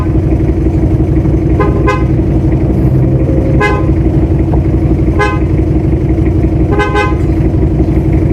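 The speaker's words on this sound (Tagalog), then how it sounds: "Ito yung busina ginawa natin." A newly installed car horn sounds in four short honks spaced a couple of seconds apart, loud and close over a constant rumbling engine idle in a mechanic's workshop after a steering assembly conversion.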